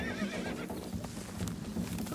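An injured, frightened young horse bolts, loud hoof clip-clop close by under a strong whinny, with no talking.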